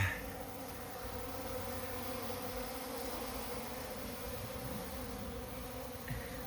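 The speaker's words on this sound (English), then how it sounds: "Oh, speaking of hornets, look at that. There's a hornet." A hornet buzzes nearby as a steady, continuous insect drone over a faint background hiss, with no voices.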